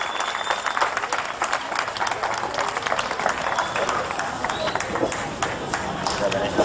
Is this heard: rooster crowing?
no